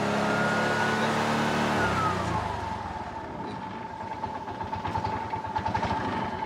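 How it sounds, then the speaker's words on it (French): An engine runs close by with a buzzy, motorbike-like note, steady at first and then dropping into a lower, pulsing idle with rapid rhythmic firing. "Oh, it's like the motorbike. Yeah, it's a motorbike."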